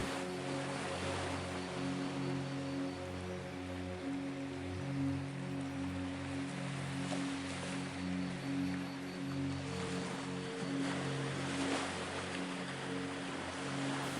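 Steady ocean surf washes in a continuous broadband roar with no clear break between waves, joined by a low droning hum of the kind a boat engine makes. No one speaks.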